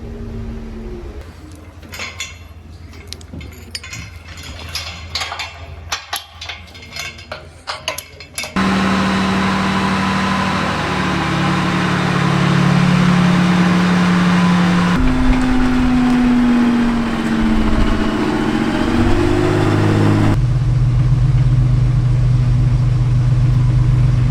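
A military armoured personnel carrier's engine is left running, a loud steady droning idle with shifting low tones after a quieter stretch of clattering and knocking at the start.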